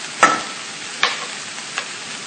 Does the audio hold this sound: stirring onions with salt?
yes